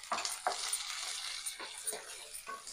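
Green peas hitting hot oil with fried ginger and garlic crackle in a steady broadband sizzle, broken by several sharp stirring scrapes of a spoon against the pan, close and fairly loud, with no voices.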